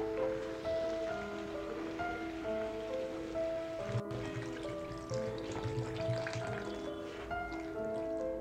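Water is poured into a pan of spiced potatoes and jackfruit cooking for a Bengali prawn and jackfruit curry, giving a soft, continuous splash and sizzle, quiet and alone.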